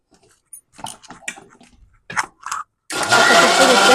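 A kitchen mixer grinder blending papaya with water into juice roars on loudly and steadily after a stretch of quiet clicks and brief handling noises.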